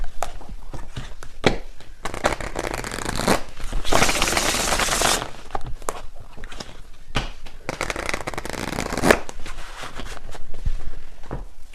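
Tarot cards are shuffled by hand in bursts of riffling and flicking, a dense rustling flurry in the middle with scattered sharp card snaps and taps before and after, close up with no speech.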